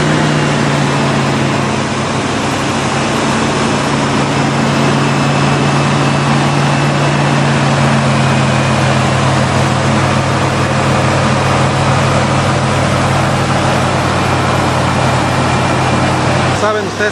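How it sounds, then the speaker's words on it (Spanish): A 1991 GMC Syclone engine idles steadily after starting, producing a loud, even, low rumble with a constant hum that runs unbroken from near the start to the end, with voices faintly beneath it. "Aquí está el motorón, amigos. Pues vamos a prenderlo, ¿no?"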